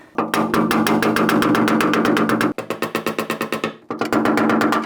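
Rapid, steady hammer taps ring out as a dent is tapped out of the metal body of a first-generation Toyota Tacoma, in quick bursts with a few short pauses between runs of blows.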